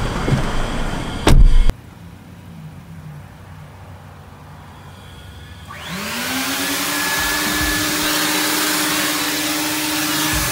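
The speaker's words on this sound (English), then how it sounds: "Let's just vacuum it here" A vacuum cleaner sucking husky dog hair out of a car interior, preceded by a brief clunk and a quiet stretch, then a loud steady whine that starts and runs continuously with a rising motor tone.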